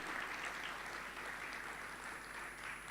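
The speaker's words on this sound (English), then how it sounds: "A big round of applause, please." Audience applause at a ministerial dialogue conference session, a steady dense clapping wash sustained throughout, moderately distant with no talk over it.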